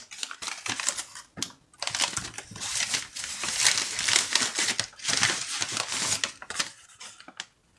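Pokemon cards slide into a padded envelope that crinkles loudly and continuously up close, with dense papery rustling and crackling in bursts and short pauses.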